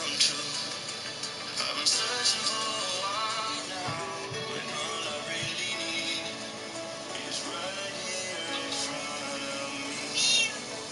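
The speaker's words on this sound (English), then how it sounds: "Don't you meow at me" Several house cat meows come and go close by, mixed in with someone speaking to the cat.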